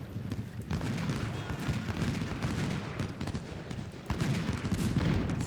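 Musket volleys and artillery in the Ultimate General: Civil War game at the Battle of Chickamauga: a continuous, rumbling crackle of massed rifle fire with heavier booms, sustained and fairly loud without talk.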